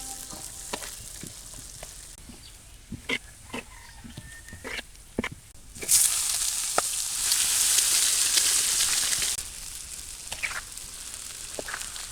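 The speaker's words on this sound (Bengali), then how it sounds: "এবার পেঁয়াজ রসুনটা ভালোভাবে বাজিয়ে নেবো বাদামি কালার করে নেবো" Chopped onion and garlic fry and sizzle in hot oil, a steady hiss swelling loudly midway, with scattered clicks and utensil knocks around it and no talking.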